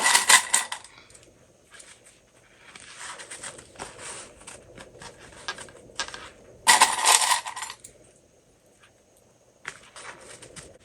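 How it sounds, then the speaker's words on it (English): Plastic sewing clips snapping onto layered fabric pieces while two top pieces of a crossbody bag are joined, heard as sharp, close clicks and rustles in bursts, loudest near the start and again midway, with no talk. "You want to clip those together."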